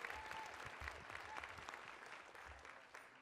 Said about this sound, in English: Another round of applause, please, please, please.